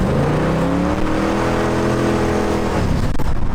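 A 1967 S-Code Ford Mustang engine revs hard through a deep, throaty new exhaust, its pitch climbing slightly before easing off near the end. Loud and close, no voices.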